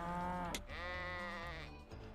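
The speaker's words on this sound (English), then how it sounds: "Wait, is that a sheep?" A sheep bleats in the Wild Animal Racing video game, one long wavering nasal bleat close and clear, followed by a short second call, with no talk over it.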